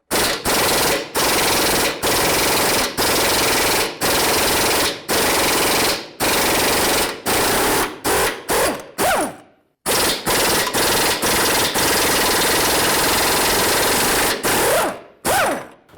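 A power tool hammers loose the power steering rack mounting bolt on a Ford Expedition, loud rapid impact bursts close by, in repeated pulses of about a second each with short gaps and one longer pause.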